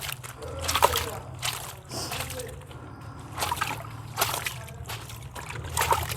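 Wet t-shirts, squeezed by hand, are tossed into a bucket of water, producing a few soft splashes and sloshes over a low background hum.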